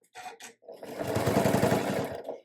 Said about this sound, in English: Then I'm going to back stitch.